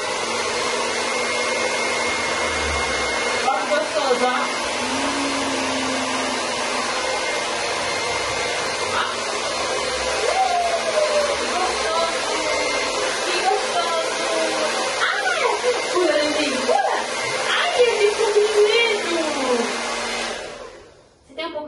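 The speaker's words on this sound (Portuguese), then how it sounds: "Tá vendo o secador da mamãe? Vou ligar ele." A handheld hair dryer runs steadily and fairly loud close by for about twenty seconds, while someone talks softly over it, then it cuts off at the end; the setting is bathing a Shiba puppy at home.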